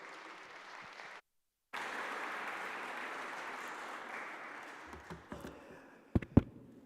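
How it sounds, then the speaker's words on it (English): Audience applause at the Think20 handover ceremony from India to Brazil, a steady roomful of clapping that breaks off briefly, resumes and fades, ending with a few sharp louder knocks. "I think we can all applaud ourselves for the work we did."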